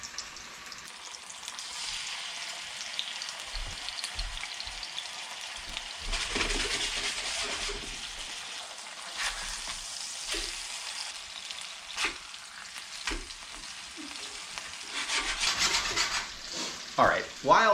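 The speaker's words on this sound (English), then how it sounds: "while our fish is frying" A whole unfilleted fish fries in a hot pan with continuous sizzling, broken by occasional crackles and pops that grow busier toward the end.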